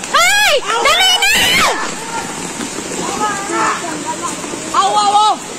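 Floodwater rushes in a steady broadband roar as it sweeps away a motorcycle after a sudden rise in water level, almost fully masked by loud, urgent shouting voices near the microphone.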